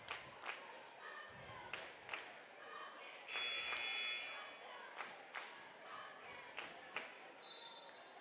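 A home crowd in a high school girls' varsity basketball gym cheers and claps in rising swells, with ball bounces, thuds and a buzzer-like tone scattered through the noisy hall.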